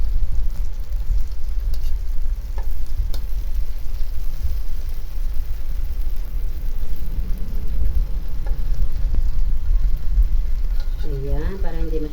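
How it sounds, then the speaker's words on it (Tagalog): Freshly harvested eggplant frying in a pan, a steady crackling sizzle running throughout with low background rumble and brief voices near the end. "Pag ako nagpiprito ng talong guys, ayoko nang masyadong toasted."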